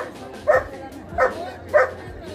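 Dogs bark in a busy dog section of an animal market at the Sonpur fair, with three sharp barks spaced evenly over a low crowd murmur.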